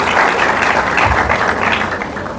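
Sustained applause from an audience at a university anniversary colloquium, clapping for the Pro-Chancellor; dense, steady and fairly loud throughout, with no speech over it.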